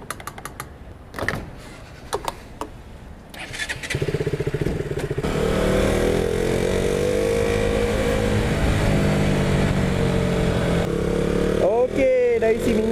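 A few clicks and rustles give way to a motorcycle engine starting up and running, a steady close rumble, with a voice speaking briefly near the end.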